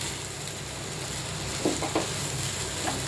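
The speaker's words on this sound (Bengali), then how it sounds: "আর একটু সুন্দর করে এটা চালটা ভেজে নিতে হবে" Rice frying with green chillies in a pan for rajma pulao, a loud steady sizzle up close with a few soft stirring scrapes partway through, no voices.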